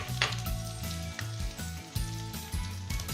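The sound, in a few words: garlic sizzling in oil in a pan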